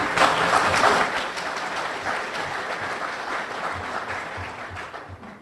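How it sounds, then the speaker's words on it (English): An audience at a chamber of commerce candidate forum claps for the candidates, dense applause that is loudest at the start and gradually thins out over a few seconds. "Yeah, clap for all of them."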